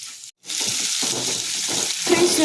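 Onions and crushed garlic hiss loudly in hot oil, a dense sizzle that starts after a short silent break and swells slightly toward the end.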